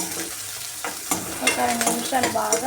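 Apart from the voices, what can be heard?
frying green chili in pan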